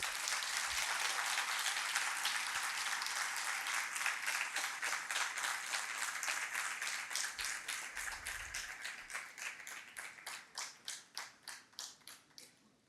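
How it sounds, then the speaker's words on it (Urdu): An audience at the Aalmi Urdu Conference at the Arts Council claps in a dense, steady burst that thins into scattered single claps before fading out. "تالیاں بھی بجائیں."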